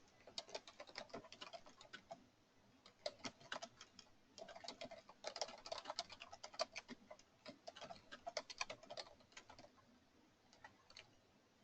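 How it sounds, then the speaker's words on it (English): Computer keyboard typing while entering a name into drawing-numbering software, in quick irregular bursts of clicky keystrokes with short pauses, fairly quiet and close, no talk. "And if I type it right, it'll be better."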